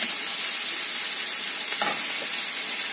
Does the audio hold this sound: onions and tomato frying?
yes